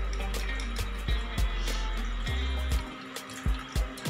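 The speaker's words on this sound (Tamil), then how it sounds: "வடிச்சுட்டு அதில் கொஞ்சம் பச்சை தண்ணி ஊற்றி எடுத்துக்கலாம்" Cooked vermicelli for falooda tipped into a strainer and rinsed with cold water, giving a steady close pour of running water with a few soft clunks and drips throughout, with no talk.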